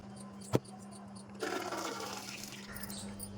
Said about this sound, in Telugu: ఈ పప్పుని ఇట్లా వడగట్టుకోవాలండి